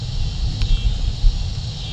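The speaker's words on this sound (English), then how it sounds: "There's a lot of distance rumbling right now from the southwest" Distant thunder from an approaching line of evening thunderstorms, heard from a front porch: a low, steady rumble rolling on with a few swells, far off and continuous, with no one speaking.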